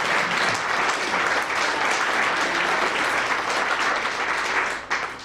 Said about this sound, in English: Yeah, clap for that.